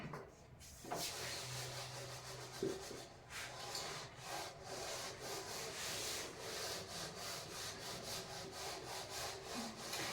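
Writing is rubbed off a classroom board during a maths lesson, a quiet run of rhythmic back-and-forth scrubbing strokes that continues for around ten seconds with no speech.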